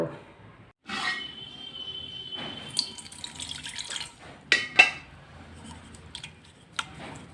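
Water poured from a small metal pot to bathe a deity idol, heard as short, close splashes and trickles in separate bursts with quiet gaps between them.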